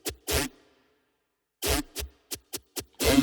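A dry synth lead with no post-processing plays a few short, muffled, noisy notes separated by a long gap, ending on a slightly longer one, moderately loud and close with no talking.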